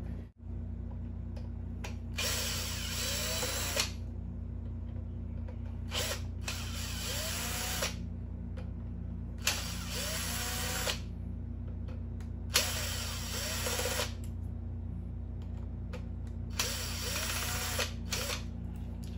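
Screws are backed out of an electric fan with a power driver in five bursts of high whirring, each a couple of seconds long, over a constant low hum, close and fairly quiet, no talk.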